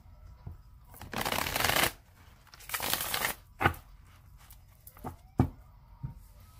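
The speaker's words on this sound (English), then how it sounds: "Okay, so I'm going to shuffle it three more times." A tarot card deck is shuffled up close in several quick riffling bursts, two longer ones followed by shorter flicks and taps, with little else heard.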